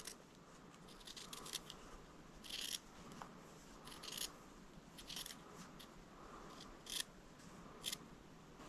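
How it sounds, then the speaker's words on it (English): Scissors trim fabric at an appliqué point, making quiet, close snips spaced a second or so apart over a soft background hiss. "I am just going through and trimming"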